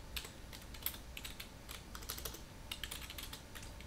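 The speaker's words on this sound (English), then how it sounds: "Let me try some typing something else." Rapid, uneven clicking of keys on a computer keyboard attached to an old Antec Pentium 4 PC, close by and fairly quiet, with brief pauses between bursts of typing.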